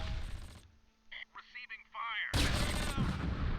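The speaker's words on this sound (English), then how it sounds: "Was that the M20 shooting at Raider?" Gunfire from an M20 armored car in the WWII tactical game Close Combat, set in fog in August 1944: a sharp burst at the start, then a sustained loud barrage of shots from the midpoint on.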